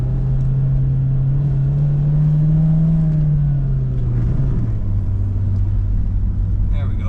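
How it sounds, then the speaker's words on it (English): Manual stick shift car engine revving up as it accelerates, a loud steady drone whose pitch rises and then settles lower, running continuously throughout. "But you can let it rev up a little higher."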